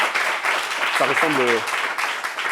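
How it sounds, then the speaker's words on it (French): A room of people applauds the mothers at a parents' meeting, a steady, moderately loud patter of clapping that carries through the whole moment while someone briefly speaks over it. "On va applaudir encore pour ces mamans."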